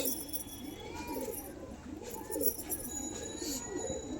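Pigeons coo close by in repeated rolling, throaty phrases of moderate loudness, over a steady background hiss with a few faint higher tones.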